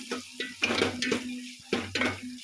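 Spice powders, including chili, coriander powder and sambar masala, are fried in a pan for idli sambar, heard as repeated scraping and clinking of a spoon against the pan over a soft sizzle.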